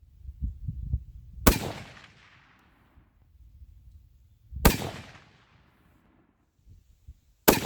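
A 30-06 rifle fires three sharp, loud shots spaced about three seconds apart, each blast ringing out with a decaying echo, while low handling noises sit between them.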